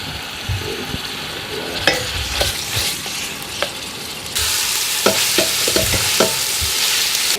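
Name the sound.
frying pork sausage and beef mince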